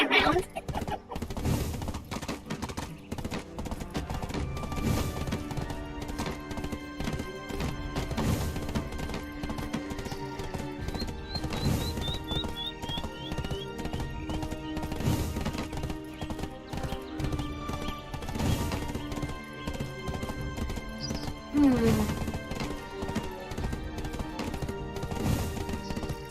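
Steady clip-clop of horse hooves while riding in Black Desert Online, a continuous galloping rhythm under game music, with a brief whinny near the end.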